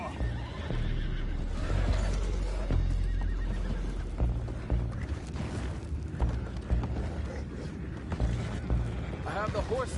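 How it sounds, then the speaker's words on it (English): Horses neigh and whinny amid clip-clopping hooves and creaking mechanisms in Red Dead Redemption 2, with a voice speaking over the busy, continuous game sound. "I have the horses under control."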